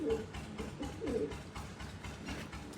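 A female pigeon from a Mirpur-bred loft coos in soft, low repeated phrases, close by and moderately loud, over a steady background hum.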